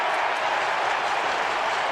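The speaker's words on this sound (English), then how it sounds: "there's the affirmation from the crowd" A stadium crowd applauds a holding-the-ball decision at an Australian football match between Adelaide and Melbourne, a steady, even wash of clapping from many hands throughout.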